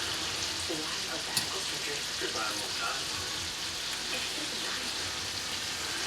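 Shrimp fry with garlic in a very hot pan, filling the space with a dense, even sizzle and crackle, with a single brief clink partway through.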